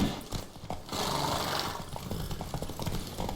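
Roach, a horse in The Witcher 3, with a loud close whinny rising over quick rhythmic hoof clops, the hoofbeats continuing steadily under the neigh.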